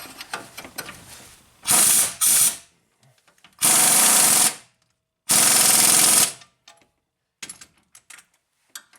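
Impact wrench on a Nissan Rogue ball joint fires three separate loud bursts of rapid hammering, each about a second long, with short pauses and light clanks and handling noises in between.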